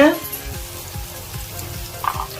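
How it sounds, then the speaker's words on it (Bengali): Onion frying in oil with ginger-garlic paste, stirred in a pan for a home-style fish curry. A steady, close sizzle plays throughout, with a spoon scraping at the start and again near the end. "প্রথমে দেওয়া হয়েছে তেল তারপরে দেয়া হয়েছে আদা রসুন বাটা তারপরে দেওয়া হয়েছে পেঁয়াজ দিয়ে নাড়া হচ্ছে"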